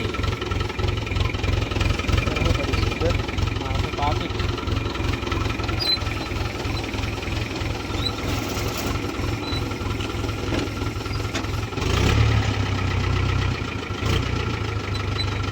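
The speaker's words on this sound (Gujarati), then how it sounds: "ચલો તો આપણે ટ્રેક્ટર પેલું ચાલુ કરીએ." A farm tractor's diesel engine idles right after a push start, a loud, close, steady low chugging that rises slightly in revs near the end. No one speaks.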